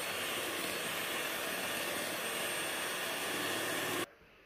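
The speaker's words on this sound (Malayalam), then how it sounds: "എന്നിട്ട് നല്ലോണം ബീറ്റ് ചെയ്ത് കൊടുക്കുക. ഇത് ലോ സ്പീഡിൽ ഇട്ടിട്ട് പിന്നെ ഹൈ സ്പീഡിലാക്കി കൊടുക്കുക." An electric beater whips eggs and powdered sugar for a cake, giving a loud, steady whirring drone that holds evenly and then cuts off abruptly near the end.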